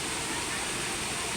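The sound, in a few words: river water flowing in Pami Laguna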